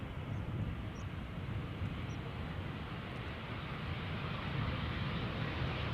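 A Cargolux cargo plane arriving at Amsterdam Schiphol, a broad constant engine rumble with rushing noise, fairly close and even, no one speaking.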